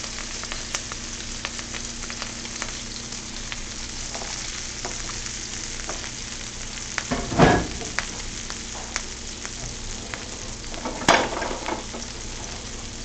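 Garlic and chicken sizzle steadily in a pan for chicken piccata, a constant close hiss broken by two brief louder scrapes as the food is stirred.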